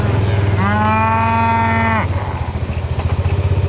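A single long cow moo rings out close by, rising then cutting off, over a steady low engine rumble that continues afterward.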